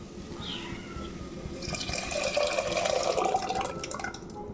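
Cooked lentils in water are poured into a pan of cooking dal fry, a soft liquid gush and splash that swells in the middle and then tapers off, close by with no talk.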